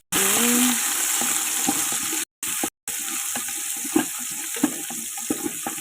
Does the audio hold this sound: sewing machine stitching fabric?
no